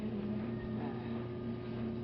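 The blower fan on a charcoal stove gives a steady, close mechanical hum with a low tonal drone.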